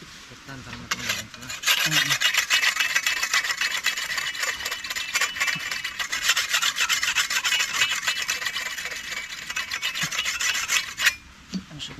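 A blade being sharpened with steady, continuous rasping strokes, loud and close, running for about ten seconds before stopping, with no talking.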